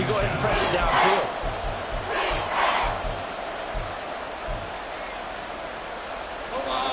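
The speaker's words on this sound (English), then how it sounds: "this crowd trying to force a false start here" A stadium crowd in Madden 24 roars as it tries to force a false start on third and inches, a steady loud hubbub with a few rising swells, under a play-by-play commentator.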